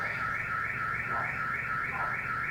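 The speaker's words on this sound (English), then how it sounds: "My neighbor's car alarm going off" A neighbor's car alarm wails nearby in a steady, repeating rising-and-falling siren pattern, moderately loud and alone.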